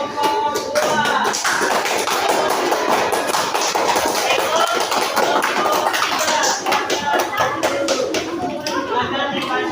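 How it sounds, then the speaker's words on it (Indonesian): Applause for a school group's presentation: a dense, sustained burst of clapping from many hands in a room, steady for several seconds before thinning out near the end. "Dan kita kasih tepuk tangan dulu untuk kelompok 2"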